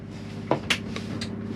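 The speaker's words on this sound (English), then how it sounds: "slide it to the right and it'll open the trap door and drop it into there." A plastic trap door on the cassette toilet of a Chausson Titanium 768 motorhome slides open, giving a couple of quick sharp clicks and a short scraping slide over a low hum.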